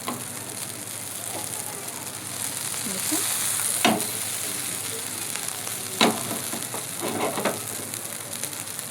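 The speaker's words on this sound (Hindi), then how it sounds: "इसे हमें अच्छी तरीके से अलट पलट करके फ्राई करना है।" Ragda patties (tikki) sizzle steadily as they fry in a pan and get turned over, with a few sharp clinks and scrapes standing out from the constant crackle.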